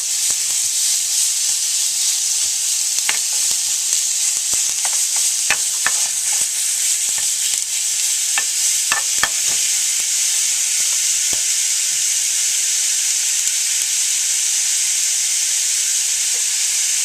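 A ribeye steak laid in a single layer in a hot pan gives a loud, steady hissing sizzle, with scattered sharp crackles and spits over the first half before the hiss settles into an even roar.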